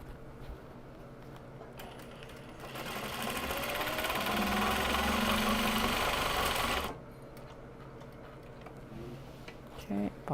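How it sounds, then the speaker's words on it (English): A sewing machine winds a bobbin in a steady, fast whirring hum that runs for about four seconds, starting and stopping abruptly, with quiet room noise before and after. "bobbin is winding"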